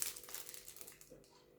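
Paper envelopes are handled, giving a soft, faint crinkling rustle that lasts under two seconds and fades toward the end, with no voices.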